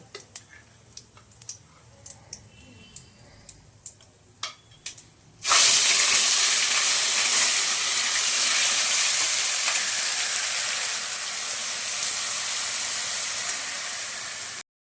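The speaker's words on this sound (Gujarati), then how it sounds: "જો આ ડુંગળી શેકાય ને સરખી બ્રાઉન કલરની શેકાવા દેવાની છે" Onion and spice paste drops into a hot pan with whole cinnamon and red chili, bursting into a loud, steady sizzle that holds for several seconds after a few quiet clicks and taps.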